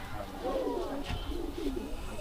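Male champion racing pigeons coo softly in a loft, a few low burbling calls close by over a steady background hum.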